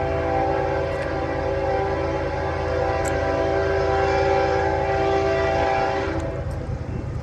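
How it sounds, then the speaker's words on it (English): A manifest freight train rolls past at Folkston, Georgia, a loud continuous rumble of cars and wheels with a sustained horn tone over it, close by and unbroken throughout. "Looks like a manifest train."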